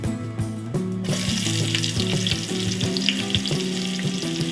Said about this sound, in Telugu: అలాగే ఒక నాలుగు పచ్చిమిర్చి ఉల్లిపాయలు బ్రౌన్ కలర్లో వచ్చేదాకా ఫ్రై చేసుకుందామండి